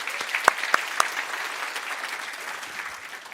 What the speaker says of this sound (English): Can we just get another round of applause for FutureCon and Kim for putting on such a great event?